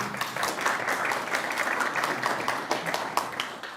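Audience applause at a capital markets day presentation, a moderate, continuous patter of many hands with a few sharper individual claps standing out.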